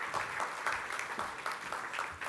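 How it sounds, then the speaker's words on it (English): Faint, steady round of audience applause at a London Tech Week 2023 conference session as speaker Sarah Munby takes the stage, a continuous distant patter of many hands without a break. "please join me in giving a warm round of applause to Sarah Munby as she takes the stage"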